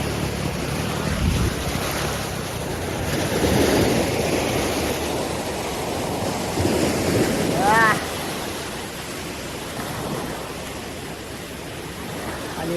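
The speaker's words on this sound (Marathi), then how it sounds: "आणि लाट आली." Sea waves wash onto Aaravi beach at Shreevardhan, a steady broadband surf roar mixed with wind buffeting the microphone, swelling around the middle before easing to a softer wash.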